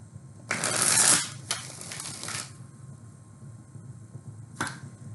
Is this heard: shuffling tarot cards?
yes